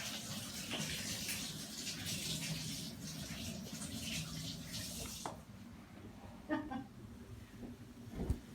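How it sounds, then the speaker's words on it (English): Tap water gushes steadily into a kitchen sink while hands are rinsed, a close, continuous splashing rush that stops abruptly, followed by a few faint clinks and drips. "Let me just rinse my hands off"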